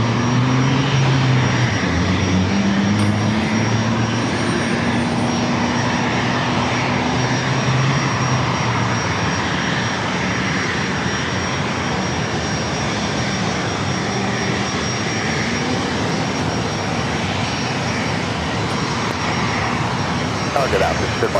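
A JetBlue airliner lands on runway 27 at San Diego airport, its engines a steady, loud broadband roar that stays even throughout, with faint tonal whines drifting lower in the first few seconds.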